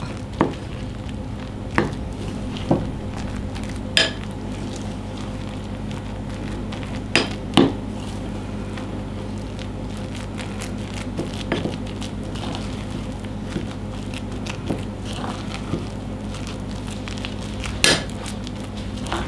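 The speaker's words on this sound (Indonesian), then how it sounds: "sekarang kita tuang ke adonan tapioka kita aduk sampai campur rata" Spoon clinking and scraping in a bowl while a mixture is stirred into tapioca batter for fried tofu snacks, with sparse, irregular taps over a steady low background hum, no talking.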